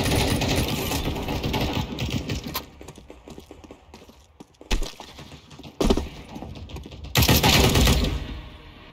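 Dense bursts of rapid gunfire from Counter-Strike 2 fill the clip, loud and close, with brief gaps and sharp single shots before another heavy volley near the end.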